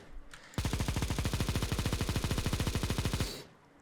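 Negev machine gun firing in CS:GO, one long rapid sustained burst of evenly spaced shots lasting about three seconds, loud and close, with a faint tail after it stops.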